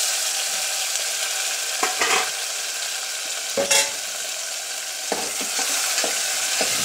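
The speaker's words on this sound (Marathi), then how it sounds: "हा छान भाजून घ्यायचा तेलामध्ये" Steady oil sizzle from cluster beans (gavar) frying in a pan, with occasional louder scraping clatters of stirring against the metal, close and continuous, no talking.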